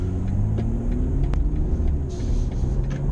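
A BMW M340i with a JB4 tune in Sport Plus pulls hard at full throttle from about 20 mph, a loud, steady engine roar with rising tone filling the cabin throughout.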